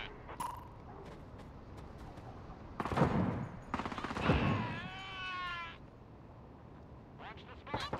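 Gunfire and mechanical weapon clatter from Caliber, a tactical shooter video game set in a hospital assault, heard as several sharp bursts amid game effects and a whistling tone, with voices talking throughout.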